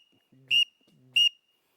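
Two short, high whistles from a duck call, each preceded by a lower reedy note, spaced about half a second apart with silence between.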